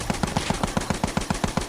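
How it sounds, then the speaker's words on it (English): A submachine gun in the Battlefield One beta fires a rapid, evenly spaced burst of about a dozen punchy shots, loud and close, with no voices. "submachine gun."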